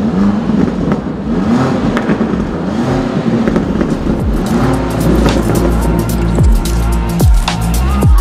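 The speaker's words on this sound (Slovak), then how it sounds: "Štvorica koncoviek aktívneho výfukového systému dáva takýto zvuk." A car's active exhaust with four tailpipes revs hard, loud and close, with repeated rising and falling engine sweeps and sharp blips over a continuous roar, no voices.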